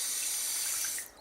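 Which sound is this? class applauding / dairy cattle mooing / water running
water running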